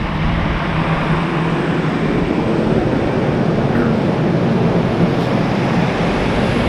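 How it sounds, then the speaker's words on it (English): A massive truck pulls into a parking lot nearby, a loud, steady low rumble of engine and road noise filling the whole stretch without letup. "we got a massive truck pulling into the parking lot here"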